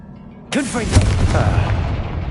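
A Confringo blasting spell bursts in Hogwarts Legacy with a sudden loud boom, followed by rumbling, crackling debris that decays over about two seconds, with no talking.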